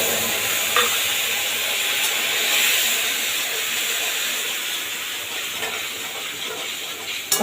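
Spice paste hits hot oil with tempering spices and sizzles in a continuous bright hiss, fairly close and steady, with occasional stirring scrapes and small pops.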